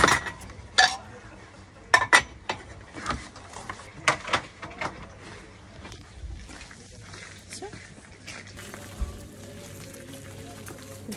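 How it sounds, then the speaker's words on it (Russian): Dishes clink and clatter in irregular bursts as they are sorted outdoors at a garden cafe, sharp chimes of crockery against each other amid background noise and voices, with quieter rattling toward the end. "у них, оказывается, сортировка посуды на улице"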